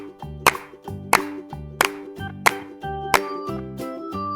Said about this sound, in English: I clap along to the song